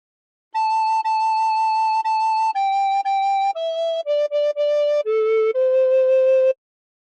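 A clear, breathy recorder plays a slow melody of "House of the Rising Sun" in separate held notes, stepping downward then back up, close and alone.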